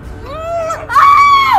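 Person screaming in a tense drama scene, two long piercing wails, the second louder and higher, loud and close with no other sound.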